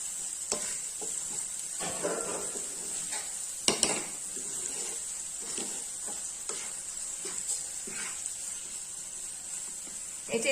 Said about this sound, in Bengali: পেঁয়াজ কুচি দিয়ে দিলাম। এখন এটাকে একটু হালকা ফ্রাই করতে হবে।